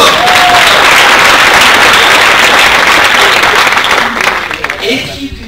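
A live audience at a leadership training event in Atlanta breaks into loud, dense applause that holds steady, then thins into scattered claps and fades near the end, with voices murmuring underneath.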